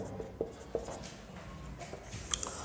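Pen strokes scratching figures into an account ledger, a few short soft taps and scrapes in quiet, close and faint.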